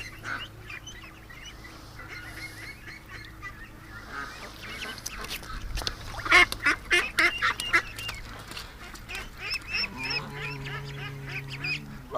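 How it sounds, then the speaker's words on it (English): Domestic ducks at a rescue flock quack and honk in scattered, irregular bursts, with a louder cluster midway. Low background hum and faint rustling run throughout, and no one speaks. "that's a really pretty duck"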